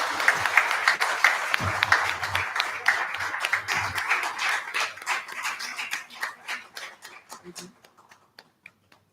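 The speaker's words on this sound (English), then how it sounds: "Justice Kalpesh Bhai Satyendra Bhai Jhaveri with the big clap." Audience applause at a spiritual talk on Sanatana Dharma welcoming a justice: dense clapping that gradually thins into scattered individual claps, with a low hum and voices underneath.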